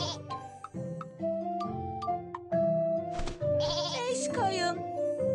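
Several cartoon sheep bleats, wavering and nasal, repeat over a soft steady musical backdrop, close and clear, from a children's animated show.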